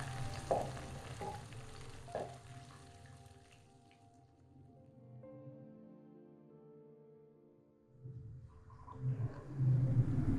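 Curry leaves, green chillies and other ingredients for Chicken 65 sizzle in hot oil, crackling steadily at first. The frying fades into a quieter tonal stretch, then bursts back into louder, busier sizzling.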